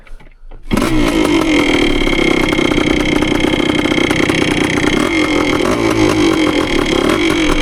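A Yamaha CT3 175 motorcycle engine fires up after a short quiet moment, then runs loud and close with a steady buzzing rev and a slight rise in pitch late on.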